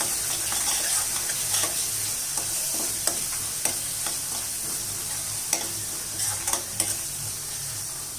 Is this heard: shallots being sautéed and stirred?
yes